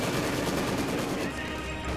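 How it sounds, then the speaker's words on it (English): Sustained rapid machine gun fire from a World War II battle in Company of Heroes 2, dense and loud with overlapping bursts and no clear breaks. "And I am using my machine gun to cut off the center, or at least trying to"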